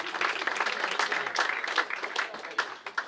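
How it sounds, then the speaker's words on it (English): Applause from an audience at an awards presentation night, a lively burst of clapping that starts full and gradually thins out into a few scattered claps by the end. "So another round of applause"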